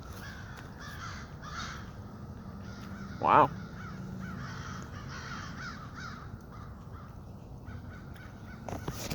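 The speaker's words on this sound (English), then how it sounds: "walking around, spooking some crows" A single crow caws once, brief and moderately loud, over quiet outdoor background while someone walks around; a short exclamation comes near the end.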